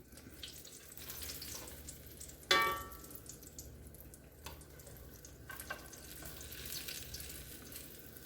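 Homemade apple fritters fry in hot oil, giving a faint, steady sizzle and bubbling close by, with a brief sharp clink and a few small scrapes during the cooking.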